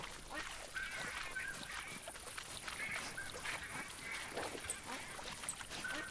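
Flock of game ducks in a hunting video game, quacking persistently in overlapping bursts, moderately loud over a constant outdoor backdrop.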